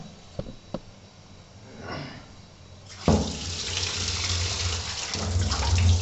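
Tap water runs over raw chicken leg pieces being washed in a sink, starting faintly with a few small knocks before a steady, close rush of water fills the rest.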